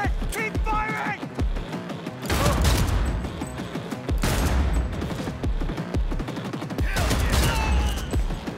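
Rapid gunfire bursts in the video game Cyberpunk 2077, loud clustered volleys repeating in waves across the clip, with a player's voice talking between and over the shots.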